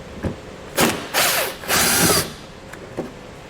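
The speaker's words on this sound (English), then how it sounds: "we'll use a T25 Torx to remove them" A ratchet fitted with a T25 Torx bit backs out fascia screws on a 2016 Volvo: a few short clicking bursts and two longer ratcheting runs, moderately close, with brief quiet gaps and no talking.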